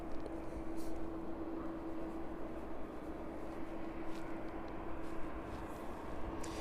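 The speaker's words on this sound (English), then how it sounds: "that DHL 767 off to Brussels, making quite a bit of noise in the distance" A DHL Boeing 767 taking off at the end of runway 27 in the distance, a constant low engine roar with a steady tone, faint and far away.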